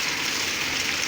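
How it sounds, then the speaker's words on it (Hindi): Heavy monsoon-style rain pours outdoors as a dense, steady hiss that stays constant and fairly loud through the short moment, with no voices over it. "कितनी तेज़ बारिश है"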